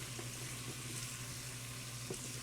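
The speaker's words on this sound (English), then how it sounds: "I'm going to get all of that ingredients right off the board, right into my stock pot." Ingredients for a Cajun crawfish corn chowder going into a stock pot, a faint steady sizzle with a low hum underneath and a couple of soft clinks.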